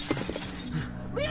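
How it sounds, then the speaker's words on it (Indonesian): A car window's glass shatters in a film scene: a short, sudden crash of breaking glass over a dark, droning movie soundscape. "kaca mobil itu pecah"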